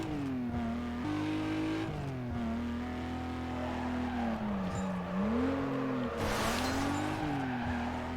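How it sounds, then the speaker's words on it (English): Game car drifting through canyon roads in Need For Speed Carbon: a steady droning engine note that rises and dips with the throttle, then a burst of tire squeal and skidding near the end, all close and continuous. "I don't remember this much drifting in the canyons."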